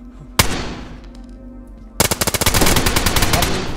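Gunfire in the DayZ video game: one sharp shot rings out, then after a pause a rapid burst of automatic fire cracks in a fast, loud, dense rhythm to the end.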